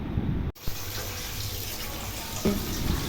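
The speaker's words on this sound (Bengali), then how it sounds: "এই যে কেটে রাখা কচুগুলো এখন ভালো মতো ধুয়ে নিচ্ছি" Cut taro pieces rinsed under running water at a rural home on a rainy day, a steady close gush from a tap with a brief break and a soft clatter near the end.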